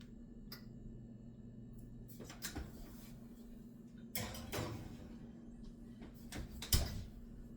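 An oven door handled while a pound cake goes in to bake, several clunks and thuds scattered over a low steady hum, with a louder bang near the end.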